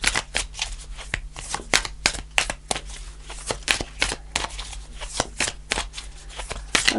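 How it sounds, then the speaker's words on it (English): Tarot cards being shuffled by hand, a dense run of quick riffling flicks and soft slaps in irregular bursts, close up and steady throughout with no talk. "Just going to shuffle."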